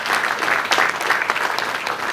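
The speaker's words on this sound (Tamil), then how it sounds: "பலத்தை கைத்தட்டு கொடுங்க" An audience at the Kalai Sangamam 2025 event claps vigorously, a close, dense burst of many hands with slightly uneven surges lasting the whole moment.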